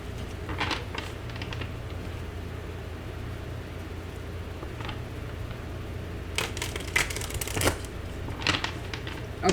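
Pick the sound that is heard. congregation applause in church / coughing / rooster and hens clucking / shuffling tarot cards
shuffling tarot cards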